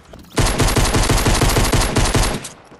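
Rapid SMG fire in Fortnite Battle Royale rattles out in one continuous, evenly spaced burst of about two seconds, loud and close, with no talking over it.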